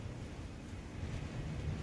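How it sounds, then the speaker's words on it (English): Steady wind blowing outdoors on a snowy late-November day near Oneida Lake, a continuous low rumbling buffet across the microphone with no talk. "A little wind."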